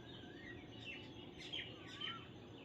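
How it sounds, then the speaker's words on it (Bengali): Several short, bright bird chirps sound outdoors, faint and some distance away. They come in a loose, irregular scatter over a low, steady background hum. "আমাদের এখানে দিন রাত মানে রাতের দিকেও পাখি ডাকছে সব সময় পাখি ডাকছে"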